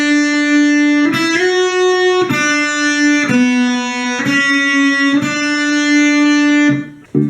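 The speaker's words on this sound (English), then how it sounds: "The next part is played by the 2nd guitar and should sound like this." A lone electric guitar plays the second guitar part: clear, sustained picked notes ring out one after another at an even, unhurried pace, each held about a second, loud and close with no voice.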